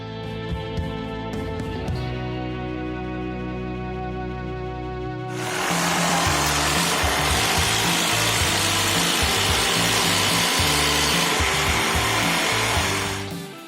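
A power saw cuts through plasterboard while a false ceiling is installed, running steadily and loudly, with a tonal motor whine that gives way to a dense, rough cutting roar through most of the stretch.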